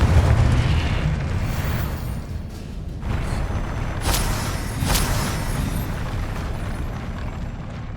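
Confringo explosion spells burst during Hogwarts Legacy combat, a steady roar of fiery blasts and booms with a few sharp cracking pops partway through.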